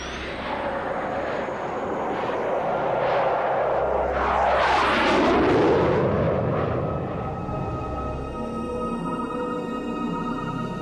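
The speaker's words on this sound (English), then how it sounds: "the Belgian Air Force were able to scramble 2 F-16 fighters to intercept the unidentified intruder" Two Belgian Air Force F-16 fighter jets roar overhead, the sound swelling to a loud pass near the middle and then fading into a steady distant rumble, with no voices.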